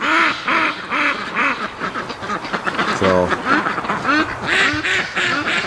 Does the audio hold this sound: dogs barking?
no